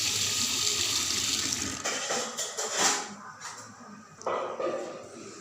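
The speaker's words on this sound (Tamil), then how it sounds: "இப்போ எல்லாத்தையும் நல்லா தண்ணி ஊற்றி அலசிக்கலாம்" Running water pours and splashes as rice and lentils are rinsed in a vessel for adai dosa batter, steady at first, then breaking into intermittent swishes and pours, close up.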